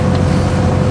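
A 1967 automatic Alvis car cruising in overdrive at about 45 mph, a steady low engine drone blended with road and wind rumble, close and continuous.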